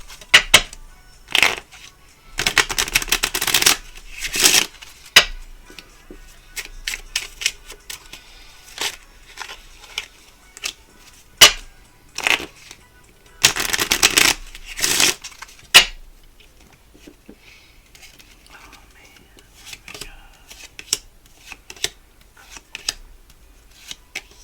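Odyssey and Goddess oracle card decks being shuffled close by, in several crisp riffling bursts separated by quieter pauses with lighter handling clicks and taps.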